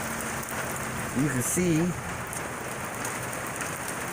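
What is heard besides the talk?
rain falling on a sailboat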